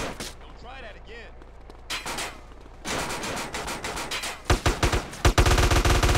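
Video game gunfire in a police training raid on a drug lab bursts out in loud, rapid volleys, growing denser and closer toward the end, with radio-like voices and talk mixed in.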